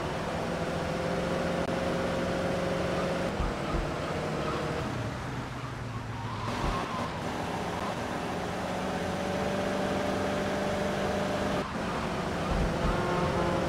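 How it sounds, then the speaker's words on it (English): Car engine and road noise from the video game GTA Vice City, a steady motor drone that shifts gear in places. "Tommy, drive carefully!"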